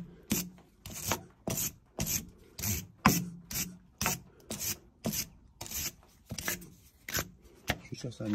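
Rhythmic scrubbing on the roughly 50-year-old ball joints of an old Renault tractor, a steady run of about a dozen evenly spaced rasping strokes, close and fairly loud, with no talking.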